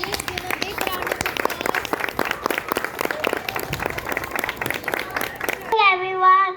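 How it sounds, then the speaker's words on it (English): Parents applaud at a kindergarten graduation ceremony with brisk, sharp clapping that keeps going for several seconds, then stops abruptly and gives way to someone speaking. "Parents, please give a big round of"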